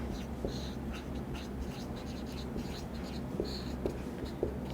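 Marker or chalk writing on a board in a physics lecture, steady scratchy strokes in short bursts over a constant low room hum, with a few soft taps.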